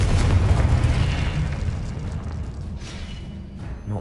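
A Confringo blasting spell exploding in Hogwarts Legacy, a loud rumbling boom that rolls on and slowly fades over a few seconds.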